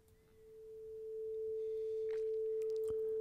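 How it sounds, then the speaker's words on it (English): A steady, pure sine wave tone from a Tone Generator plugin holds one constant pitch throughout, quiet and clean, with a few faint clicks near the end. "Turn the Tone Generator plugin on."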